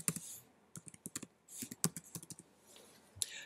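Typing on a computer keyboard: a quick irregular run of light key clicks, close and quiet, with brief pauses between bursts and no talking.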